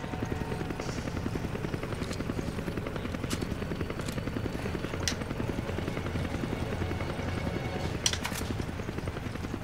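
Helicopter rotor in the Resident Evil 5 video game, a steady rapid thudding chop that holds for the whole stretch, with a few sharp clicks and shots breaking through.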